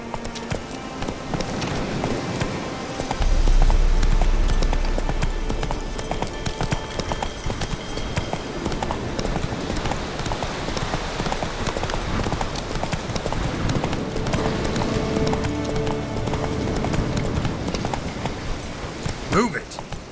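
Roach the horse galloping in The Witcher 3: Wild Hunt, rapid rhythmic hoofbeats clip-clopping close and steady throughout, with a deep thump partway through and voices speaking over the running.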